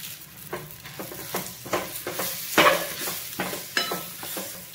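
Spices with red chilli powder, salt and coriander frying on low gas for Saoji mutton curry, a soft sizzle broken by repeated scraping stirs of a spoon against the pan, close and steady.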